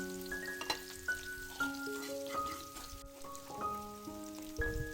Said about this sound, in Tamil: கடுகு சீரகம் கருவேப்பிலை போட்டு தாளிச்சிட்டு ஒரு பெரிய வெங்காயத்தை வந்து பொடியாக நறுக்கி சேர்த்தாச்சு